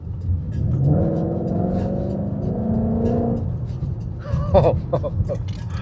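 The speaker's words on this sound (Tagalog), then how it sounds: "The rumble while you're buying the GT Mustang" The stock V8 of a wide-body Ford GT Mustang with a Borla exhaust gives a deep, close rumble that rises and holds for a few seconds, then fades, followed by brief clatter and faint voices.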